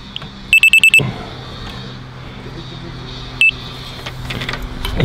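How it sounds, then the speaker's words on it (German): A rotating laser level receiver at a garden retaining-wall build beeps on reaching target height: a quick run of four sharp electronic beeps, then one more single beep a few seconds later, loud and close over faint background noise. "wenn das dann die Höhe erreicht, piepst das Gerät"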